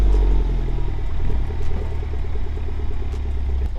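Porsche GT4 engine idling loud and close right after starting up, a steady deep rumble with a fast, regular pulse and no talking.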